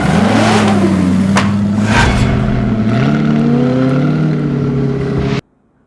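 A 4.7 liter Lazarus V8 on an unusual motorbike revs loudly and close, its groaning tone rising and falling over several seconds before cutting off abruptly.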